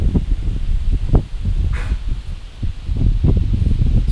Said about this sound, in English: Try to shield the camera from the wind a little bit.